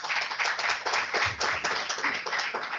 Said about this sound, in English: for that we should give a big applause to